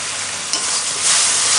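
Kashmiri chili, coriander and turmeric powders frying in a pan for aloo dum make a loud, close, continuous hissing sizzle that swells a little toward the end, with no voices over it.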